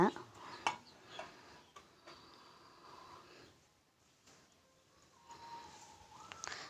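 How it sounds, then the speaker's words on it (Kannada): A spoon scrapes and clinks against a pot while a vegetable and sprouted gram curry is stirred, giving close, irregular metallic knocks and scraping with quieter gaps between, under faint background noise. "ನೋಡಿ, ಚೆನ್ನಾಗಿ ಮಿಕ್ಸ್ ಮಾಡ್ಕೊಳ್ಳಿ ಒಂದು ಸಲ."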